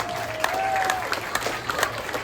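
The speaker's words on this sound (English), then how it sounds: "give her a round of applause" Audience at a city council history event at a swing bridge applauding, a moderate spread of clapping with a few sharper individual claps standing out, and a brief voice or whistle tone early on.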